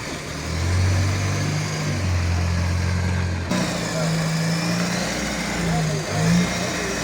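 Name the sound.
military Land Rover Lightweight engine running during ride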